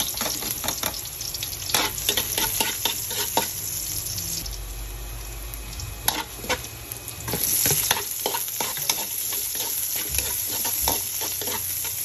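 Garlic frying in a pan for a Filipino ginataang kamansi dish: steady sizzling with repeated scraping stirs of a utensil, close and moderately loud, with no talking.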